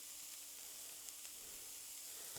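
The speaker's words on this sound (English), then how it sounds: "my pan is nice and sizzling" Onions sizzle in a pan coated with oil left from cooking sausage, a faint steady hiss with a few tiny pops and no talk.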